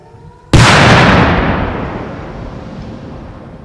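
Old artillery shells detonate near a bunker in a single sudden, very loud blast. It hits after a moment of quiet, and a long rumbling roar slowly fades behind it.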